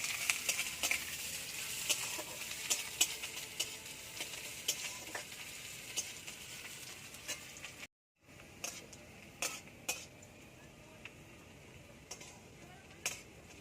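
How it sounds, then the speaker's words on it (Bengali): Onions fry in oil in a karahi after dried chillies, a steady bright sizzle with intermittent scraping stirs and utensil clicks, close and continuous, briefly cutting out before resuming. "পেঁয়াজটা একদম খুব লাল লাল করে ভাজতে হবে"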